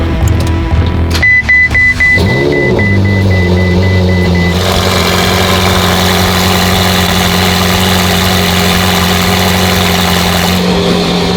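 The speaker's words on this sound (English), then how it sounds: "Nice little cold start." A Lamborghini engine cranks on a cold start and catches, then settles into a steady, loud, high idle with a continuous hum, a faint electronic beep audible near the start.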